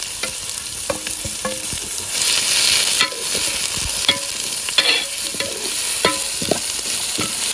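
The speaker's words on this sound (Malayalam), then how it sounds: "വെല്ലുള്ളി നല്ല നേർങ്ങനെ അരിഞ്ഞിട്ട് നമുക്ക് ഇതിലേക്ക് ഇടാം" Finely chopped garlic and onion fry in hot oil with a loud, continuous sizzle, punctuated by repeated scraping and clinking strokes as the pan is stirred.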